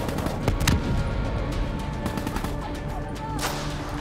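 Rapid gunfire rattles through Call of Duty Black Ops 3, with repeated sharp shots and bursts over a dense, constant battle din, loud and close with no talking.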